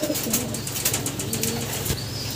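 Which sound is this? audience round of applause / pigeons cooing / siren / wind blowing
pigeons cooing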